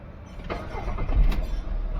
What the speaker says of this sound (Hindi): इंजन स्टार्ट किया मैंने।